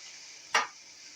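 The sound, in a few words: onion and garlic frying and being stirred in pan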